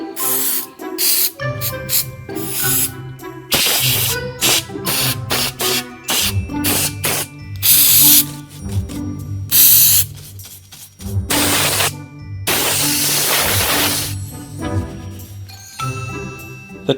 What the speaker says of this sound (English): The spray just washed all that dirt away and just brushed it away, blew it away.